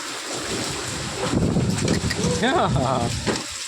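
Gusting windstorm wind roars into the microphone with a steady hiss of rain, while a person speaks over the noise.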